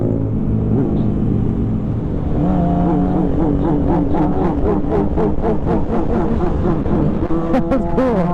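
A car engine revs and climbs in pitch as it accelerates, a steady close rumble with rising harmonics that carries on throughout.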